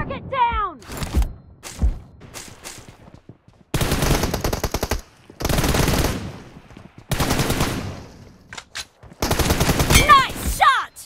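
Bursts of machine gun fire in a team deathmatch video game shootout, several rapid volleys separated by brief pauses, with voices shouting between and over the shots.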